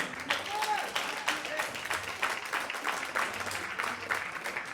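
Audience applause for players at the Dissidia cup esports championship at PAX, a steady wash of clapping from a crowd that carries through the whole stretch with some voices mixed in.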